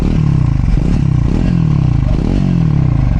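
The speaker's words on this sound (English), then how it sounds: "I'll just let you listen the exhaust note of the bike." Triumph Scrambler 400x motorcycle with a double barrel exhaust, revving close up in loud, continuous bursts, its deep engine note rising and falling with each twist of the throttle.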